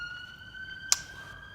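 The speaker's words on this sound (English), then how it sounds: "Sirens outside." A siren wailing outside, heard as steady sustained tones under a brief sharp click, fairly faint and distant.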